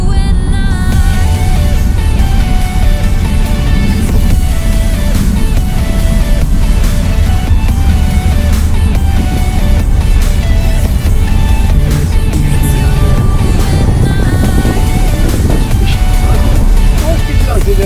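A car drives along a road in Key West, giving a loud, steady low rumble of engine and road noise for the whole stretch, with tonal, music-like sounds layered over it.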